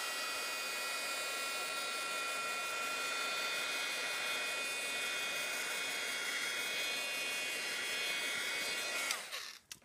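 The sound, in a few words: heat embossing tool blowing hot air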